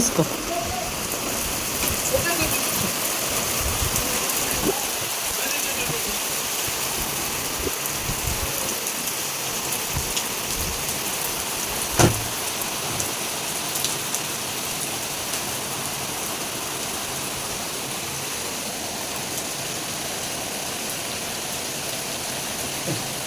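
Rain falls steadily and evenly during a village wind and rain storm, a dense hiss of drops on surfaces with a single sharp knock midway.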